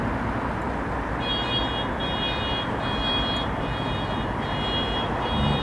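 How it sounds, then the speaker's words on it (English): Car alarms aboard a Red Funnel ferry at the Port of Southampton sound faintly in the distance, a repeating pulsed electronic tone that starts after a moment and cycles steadily over a constant roar of wind and engine noise. "Sounds like the red funnel ferry car alarms again."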